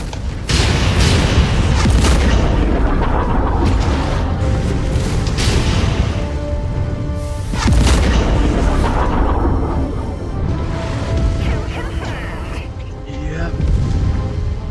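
Repeated heavy booms and blasts of missile explosions in the MechWarrior 5 video game, loud and close, rolling through the whole stretch amid rumbling mech gunfire, with a voice talking over the combat.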